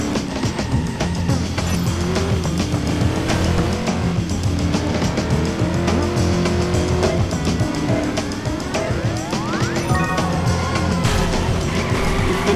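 A car driving in Driver San Francisco, with a steady engine drone that shifts pitch as it accelerates, plus brief tire squeals, loud and continuous.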